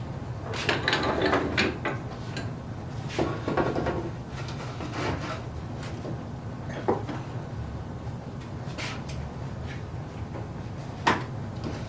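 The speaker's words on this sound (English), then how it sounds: "So I'm going to cut off the board." A handsaw cuts a wooden board to length in a workshop, giving a series of scraping, rasping strokes with an uneven rhythm, moderately loud and close, with no talk.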